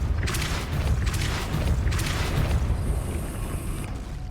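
A Depulso force spell cast in the Hogwarts Legacy video game, heard as a few dull booming bursts over a steady low rumble, followed by a thin sustained high tone, with no talking.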